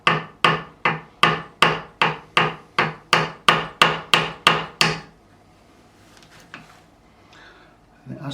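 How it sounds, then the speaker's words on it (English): A screwdriver is tapped gently to knock the nut off a Gibson Les Paul Junior guitar. About fourteen sharp, evenly spaced knocks land close and loud in a steady rhythm, then stop, leaving quiet handling noise. "I'm going to just put a screwdriver in there, and we're just going to tap it gently"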